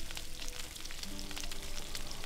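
Meat sizzling on the fire in Gothic 1, a steady crackling fry with scattered pops and a few faint tonal notes over it, continuous at moderate level with no speech.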